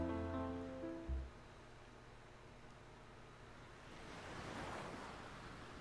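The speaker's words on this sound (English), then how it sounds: "we sway in the water and the waves" Ocean waves wash in a visual novel game scene, a steady soft surf wash that swells slightly toward the end after a few faint tonal notes fade out at the start.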